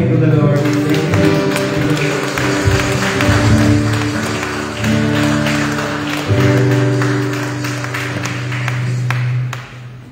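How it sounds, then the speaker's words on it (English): A church congregation claps a praise offering, with steady clapping spread under sustained music and voices for the whole stretch. "And give a clap offering to the Lord."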